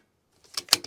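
Precision rifle with a dead primer misfire at a long-range shooting session, a brief dry metallic click with a short rattle of the action, close and isolated after a moment of silence.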